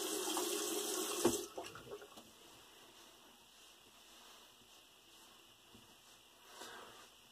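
Water running from a tap while rinsing off after shaving, a loud rush for about a second before dropping to a faint trickle and quiet handling sounds, with a small splash near the end.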